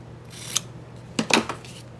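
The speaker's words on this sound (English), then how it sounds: "I'm just going to take my scissors and I'm just going to eyeball it" Scissors snip through cardstock paper in a few quick, crisp cuts, close and quiet, with a short cluster of sharp snips near the end and no talking.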